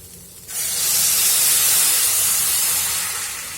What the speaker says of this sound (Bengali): এখন পরিমাণ মতন জল দিয়ে দিব।